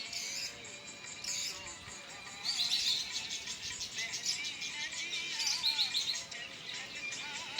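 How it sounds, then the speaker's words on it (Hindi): Birds chirp and tweet on a drizzly monsoon day with a cool breeze, bright repeated calls rising in clusters over steady faint background chatter, with no voices present. "परिंदे चहचहा रहे हैं"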